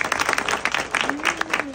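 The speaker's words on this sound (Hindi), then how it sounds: "अब ताली बजाओ।" A small group of people clapping hands in a quick, uneven burst, close and fairly loud, with voices mixed in.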